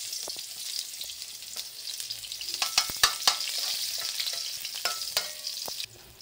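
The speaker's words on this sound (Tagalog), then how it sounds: "mainit ang ating mantika sa ating kawali. Ilagay natin itong ating bawang. Ayan. Bawang at saka sibuyas." Garlic and onion dropped into hot oil in a pan, crackling and sizzling busily with sharp spitting pops and stirring scrapes, loud and close, then cutting off abruptly near the end.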